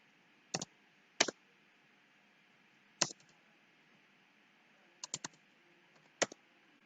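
Numbers are keyed into a computer keyboard in a quiet room: short clustered clicks spaced by pauses, a few single taps and quick double and triple bursts, close and fairly soft.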